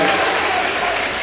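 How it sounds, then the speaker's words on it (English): Basketball crowd at a varsity sectional final roaring and applauding after a made basket, a loud dense burst of cheering and clapping filling the gym. "Loud crowd here tonight"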